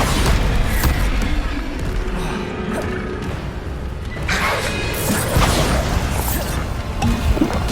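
Bombarda spell explosions in Hogwarts Legacy, a dense, loud barrage of crashing blasts and whooshes amid continuous combat noise.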